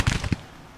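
A Civil War artillery battery fires in Grand Tactician: The Civil War, giving a quick cluster of muffled booming cannon shots that fade into a short low rumble.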